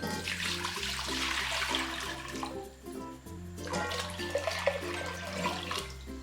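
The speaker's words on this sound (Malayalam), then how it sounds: "രണ്ട് ലിറ്റർ വെള്ളം ഞാനിതിലേക്ക് ചേർത്ത് കൊടുക്കുവാണ്" Water pours steadily in two long bursts with a brief pause between, splashing into a pan close by; about two litres for naruneendi sarbath.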